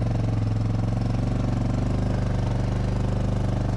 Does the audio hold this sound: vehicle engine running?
yes